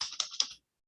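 Short burst of computer keyboard typing, several quick clicks over about half a second, close and moderately loud, then silence.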